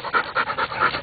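Rapid, rhythmic panting from a golden retriever at a dog park, four or five close breathy pulses in quick succession, near and fairly loud.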